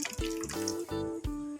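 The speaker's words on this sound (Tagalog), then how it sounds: "Pero dinagdagan ko to guys ng kalahating tasa ng tubig." Half a cup of water is poured into a pot while cooking chicken in coconut milk, making a close, gurgling splash with a few pitched glugs that rise as the liquid fills.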